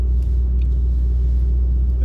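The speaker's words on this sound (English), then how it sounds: "It's a Steeda exhaust." A 2005 Ford Mustang GT fitted with a Steeda exhaust, heard as a steady low rumble, fairly quiet and close, with no speech.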